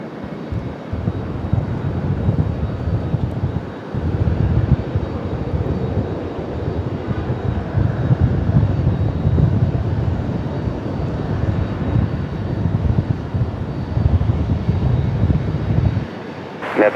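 A CRJ 900LR regional jet arriving at Raleigh-Durham from Cincinnati gives a steady, broad engine roar that stays loud throughout and cuts off briefly near the start and end. Nobody speaks.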